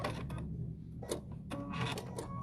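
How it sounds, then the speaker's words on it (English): Sewing machine top stitching around a fabric placemat, short bursts of quick mechanical whirring with brief pauses between runs, close and moderately loud, no talking. "we're just going to top stitch all the way around our placemat"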